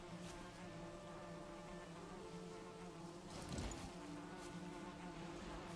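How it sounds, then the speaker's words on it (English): Bees at a beehive in Valheim make a faint, steady buzzing hum throughout, quiet and distant with no talk. "The bees are happy."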